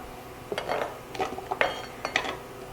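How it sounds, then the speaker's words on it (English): Rough-chopped onion going into a pan of beef drippings for Salisbury steak gravy, with a utensil scraping and clinking against the pan in short irregular bursts, close and fairly quiet. "So what I'm going to do is add an onion to here."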